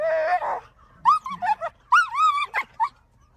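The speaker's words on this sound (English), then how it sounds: "dog talking again." A pet dog, apparently a female, makes a run of whining, yipping vocal noises near the microphone, with a short whimper first and then several rising and falling moans and yips in separate bursts.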